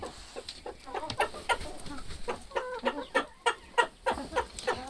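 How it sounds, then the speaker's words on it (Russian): Chickens cluck in repeated short, rhythmic bursts while pecking at food scraps including garlic husks in a backyard run, several birds close by and fairly loud, with no talk. "Вообще куры очень хорошо едят чеснок и шелуху от чеснока."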